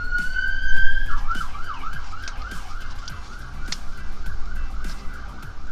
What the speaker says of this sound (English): How are you going to get an ambulance go by?